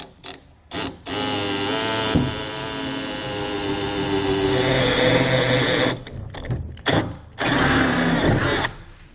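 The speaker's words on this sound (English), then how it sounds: "I'm just gonna drill down through it." Power drill boring a hole down through a trailer fender, a sustained whining motor run lasting several seconds with brief pauses and restarts near the end, close and loud.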